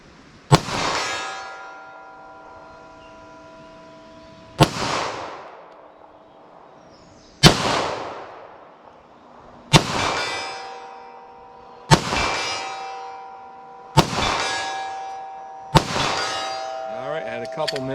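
An MMP 9mm pistol fires seven well-spaced shots at steel targets 75 yards away, each sharp report followed by a ringing metallic clang from the struck plate that decays before the next.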